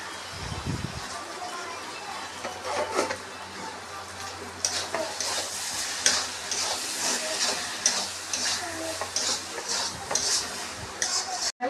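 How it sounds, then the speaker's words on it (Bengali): Spice masala being stir-fried in a pan with oil before meat goes in for a curry, with a soft sizzle, repeated scraping and clinking of a utensil against the pan, and a brief voice at the start. "মশলাটা দিয়ে দিচ্ছি। এবারে কষাতে হবে ভালো করে"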